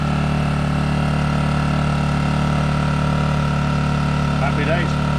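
A SIP Medusa Ti-1002 generator engine runs steadily on choke, a loud, constant mechanical hum with a low engine drone throughout, briefly overlaid by a faint chirpy sound near the end.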